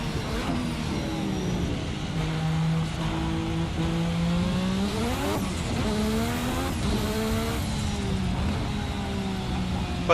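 A sim race car in a racing video game spins its wheels in third gear: a loud, continuous engine drone rising and falling in pitch with revs, tyre squeal layered over it, heard alone without talk.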